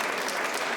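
A short burst of comedy-show audience applause, many hands clapping together in a steady wash of noise.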